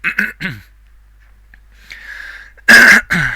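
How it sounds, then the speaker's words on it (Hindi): A few short sounds, then quiet, then one loud harsh cough close by, followed by a shorter throaty burst. "एक तो ये खांसी हो रही"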